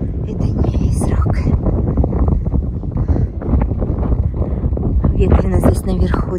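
Strong wind buffets the microphone on top of a sand dune in the Australian outback, loud and gusting throughout, with a voice talking over the roar.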